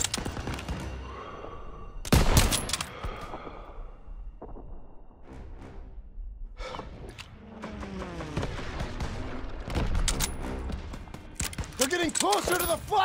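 Machine gun fire in Call of Duty WWII: a sharp burst near the start and more rattling volleys toward the end, set among shouted voices and other battle noise.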